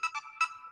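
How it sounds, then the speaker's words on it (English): A mobile phone ringtone chirps in a quick electronic pattern, two tones and then a third, moderately loud and close, with no talk over it. "That was my phone"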